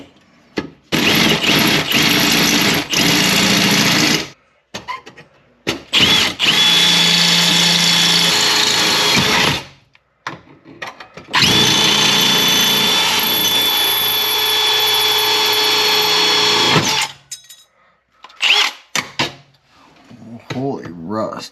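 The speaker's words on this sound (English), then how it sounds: "I'm going to hop under here and drill this" A power drill bores into the rusty underbody of an Impulse Turbo from beneath, running in long loud bursts of several seconds with short pauses between, close and dominant, with brief talk in the gaps.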